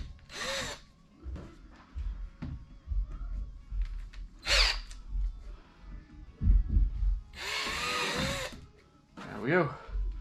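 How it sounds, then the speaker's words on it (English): A power drill fitted with a larger bit bores holes in a fishing kayak for hook rivets, sounding as several short, loud whirring bursts separated by pauses, with a person talking in between. "Switch to a bigger drill bit, and then I'll be ready to rivet this into place."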